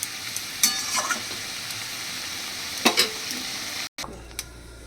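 Drumstick and potato curry with poppy seed paste stirred in a hot pan, a soft steady sizzle broken by a few sharp scraping strokes of a spoon against the pan, ending in a brief cut.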